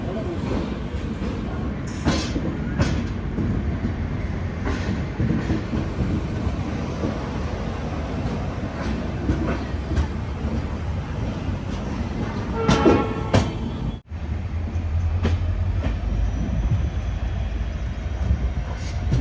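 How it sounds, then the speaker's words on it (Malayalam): An express train leaving Bhavnagar, heard from inside a sleeper class carriage, produces a steady loud rumble of wheels and car noise, with a brief horn-like tone and a short dropout partway through. "കറക്റ്റ് 10:15 തന്നെ ഭാവ്നഗറിൽ നിന്ന് ഇതാ ട്രെയിൻ എടുത്തിരിക്കുകയാണ്."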